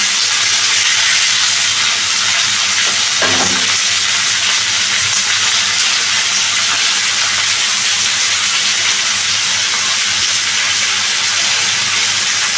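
Chopped tomato fries in a pan with potato and pointed gourd, giving a loud, unbroken sizzle and steamy hiss, and there is no talking.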